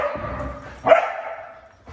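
Dogs playing together, with barks and yips rising to a loud bark midway, a close, lively exchange with no talk.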